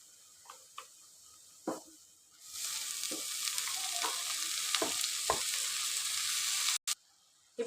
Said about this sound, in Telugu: తోటకూర అంతా వేసుకున్నాం కదా. ఒకసారి మనం అంతా కలుపుకొని